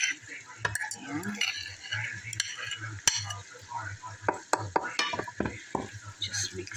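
A spinach, garlic, dried tomato and cream cheese filling being stirred in a bowl, with repeated close clinks and scrapes of a utensil in an irregular rhythm.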